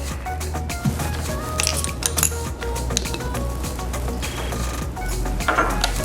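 Keto dessert ingredients are mixed in a bowl, with repeated clinks and scraping taps of utensil against the bowl in an irregular rhythm, close and moderately loud, no talk.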